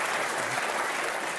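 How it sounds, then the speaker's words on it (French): A studio audience breaks into brief applause during a French television show, a dense, even clatter of many hands clapping at once that fills the whole short moment. "C'est rare quand Bayonne, on applaudit."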